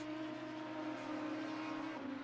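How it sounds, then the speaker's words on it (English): Onboard engine of a race car in the MOBIUZ Challenger Cup holds a steady, buzzing high-revving drone, then dips in pitch near the end as it lifts or shifts; faint and continuous, with no talking. "let's turn up the engine noises"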